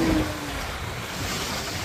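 Sea waves at My Khe beach make a constant broadband rush of surf, with wind noise mixed in, steady and fairly loud with no voices.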